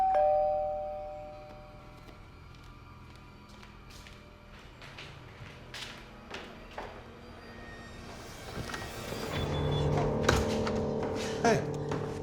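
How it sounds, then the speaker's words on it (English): A doorbell rings inside a home at the start, a short chime followed by quieter household movement such as footsteps and a door. "So when the doorbell rang,"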